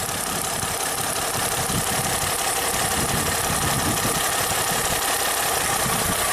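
A car engine running with fuel injector number 4 unhooked, so it misfires; a loud, steady, rough idle that fills the whole clip, with no voices.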